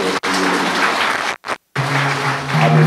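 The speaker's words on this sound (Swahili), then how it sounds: "tumpigie makofi mengi sana kwa utumishi wake" A crowd at a village burial for a late ward councillor claps together, loud dense applause broken by brief pauses, with no talk.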